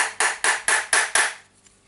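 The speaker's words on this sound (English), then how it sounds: "slightly hammering it" Five sharp, evenly spaced hammer strikes ring out close and loud as a gear part for a Makita DDF481 drill is tapped into place on an anvil, followed by quiet.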